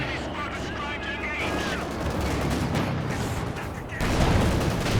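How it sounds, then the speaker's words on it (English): A dense barrage of artillery fire in Company of Heroes 2, with overlapping booms and crackling impacts rolling continuously and a louder burst near the end. "Oh my, this is so much artillery."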